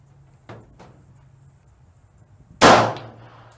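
A handgun fired at a shooting range: a faint click first, then one sharp, loud report with a brief ringing tail, close by.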